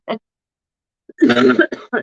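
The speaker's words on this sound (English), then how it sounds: "if my coughing upsets you, just turn the volume down" A short burst near the start, then after a pause a cluster of harsh, rough coughs in quick succession, close and fairly loud.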